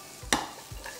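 Spices stir-fried in a wok, a brief close scrape-and-clatter of the spatula over a low background sizzle, then a softer second stir.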